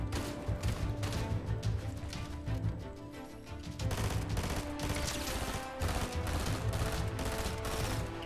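Rapid, continuous gunfire from a weapon in a shooter video game rattles on almost without pause, loud and dense, with a brief dip in the middle and no voices on top.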